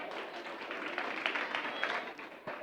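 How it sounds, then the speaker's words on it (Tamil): Audience clapping at a Tamil cultural program in Greater Washington, a steady wash of many hands applauding indoors, even and moderately loud, with a few sharper claps standing out. "திரும்பவும் ஒரு பலத்த கைத்தட்டுகள்"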